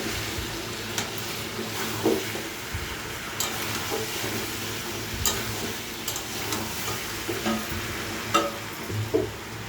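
Chicken curry meat fries in oil in a pan, a steady close sizzle with the scrape and clack of stirring repeating through it, no talk.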